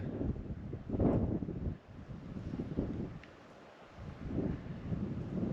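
Gusty wind in the Snake River Canyon buffeting a nearby microphone, low roaring rumbles that swell and drop in uneven bursts, with no voices.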